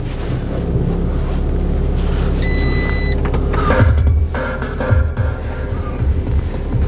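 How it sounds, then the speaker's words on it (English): A Fiat 500 with a manual gearbox starting up inside a dealership setting, the engine catching around the three-second mark and then idling steadily at a low, even drone through to the end, close and fairly loud. "Foot down on the clutch, turn the key,"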